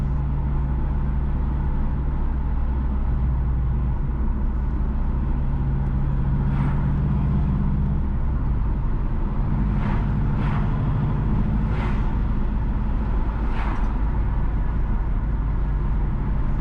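A car drives along Fairfield Road in Montego Bay, Jamaica, with a loud, steady low engine and road rumble throughout and a few brief higher squeaks or chirps over it.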